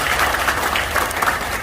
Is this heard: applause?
yes